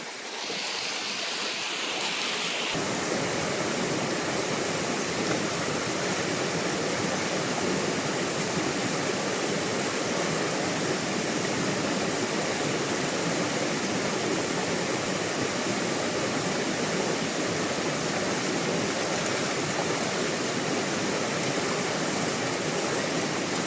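Loud, continuous rush of water pouring and churning into a tank, steady throughout after a short quieter opening.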